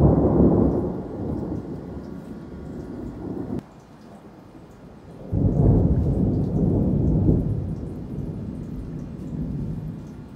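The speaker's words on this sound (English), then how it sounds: "Guys, it is now pouring down," Steady heavy rain roars throughout, with deep rumbling thunder swelling at the start and again midway after a brief quieter lull.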